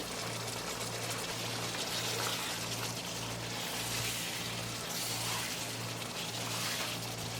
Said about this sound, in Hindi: अब इसके अंदर चिकन के अंदर यखनी शामिल करेंगे, तकरीबन हाफ कप शामिल कर दें।